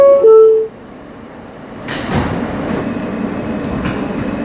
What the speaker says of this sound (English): This is a Court Square bound G train.